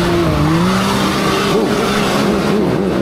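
Off-road vehicle driven at full throttle through a mud challenge course, engine roaring steadily with wavering pitch and tire spin, loud and close throughout with no talk.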